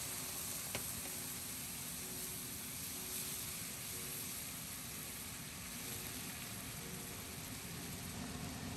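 Cured fish stir-frying in a wok with a spoonful of light soy sauce, a steady, even sizzle with faint scraping, continuous and close without any talking.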